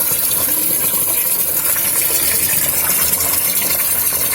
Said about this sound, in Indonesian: Nah, ini proses pengisian airnya ya.